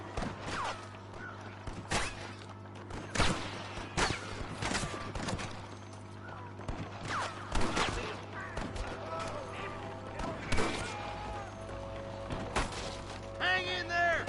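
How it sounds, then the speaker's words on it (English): Gunfire rings out in a Red Dead Redemption shootout, a string of loud sharp cracks at irregular intervals, some in quick pairs, layered over game music and voices talking. "I can hear more gunshots."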